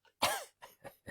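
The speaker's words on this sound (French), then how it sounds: "Mais tu tousses pourquoi?" A person coughs: one hard, harsh cough followed by three shorter, quieter coughs in an uneven rhythm, close by in an indoor home kitchen.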